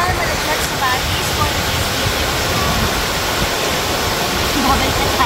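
A stream flows through a nature park in Tayabas, Quezon, a loud and constant rushing of water that fills the whole stretch as a steady broadband wash.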